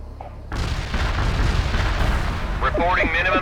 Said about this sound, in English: Artillery barrage turned the target area into dust.